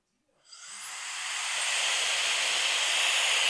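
Rising rush of air from an electric rechargeable air duster rated to 300,000 RPM with a wide nozzle fitted, spinning up from silence into a loud, steady high-pitched hiss.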